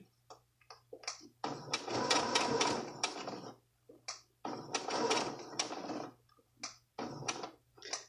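A domestic sewing machine stitches an invisible zipper coil, running in two long bursts with shorter stops and starts between them, close and fairly quiet with a low steady hum underneath.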